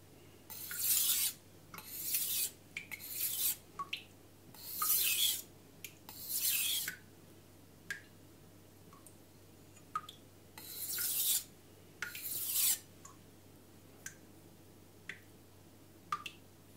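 A kitchen knife is drawn across a 1000 grit whetstone in short, repeated rasping strokes, each a bright gritty swipe followed by brief pauses, near and distinct with no talking.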